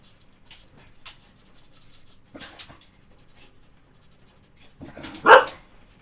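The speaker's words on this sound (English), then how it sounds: "I think that's my dog Poppy telling me supper's probably almost ready" A dog barks indoors in a few short, separate woofs and whimpers at moderate distance, with the last bark loudest, amid faint rubbing of a pastel being worked on paper.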